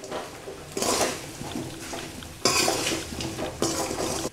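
Fried baby potatoes tossed with spice powder and salt are stirred in a pan, producing loud bursts of scraping and clattering from the utensil against the cookware over a faint sizzle, with no talking.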